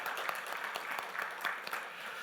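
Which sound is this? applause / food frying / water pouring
applause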